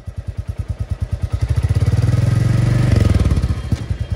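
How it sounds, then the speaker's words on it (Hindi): A 2024 Royal Enfield Bullet Classic 350 in Stealth Black idles with a loud, steady thump, then gets a light rev that thickens the beat before it settles back to idle, close up and alone. "अब देखो मैं हल्की सी रेस देता हूँ"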